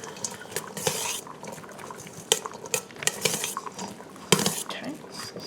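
Ground beef filling for stuffed bell peppers is stirred in a bowl, with a spoon scraping and clinking against the sides in uneven bursts that come close and fairly quiet.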